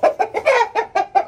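A large rooster held in someone's hands at a mini zoo gives a rapid run of about seven loud, close clucks in quick, even succession, with no talking.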